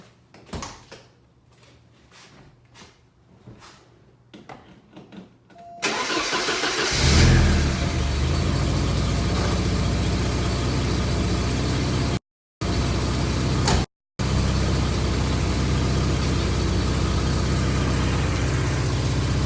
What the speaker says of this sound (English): now it's going to start the car up and see if it runs